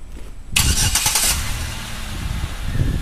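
A 2007 Chevrolet Impala 3.5 LT starts by remote start: after a quiet moment the engine cranks and catches with a sharp burst, then settles into a steady, close idle.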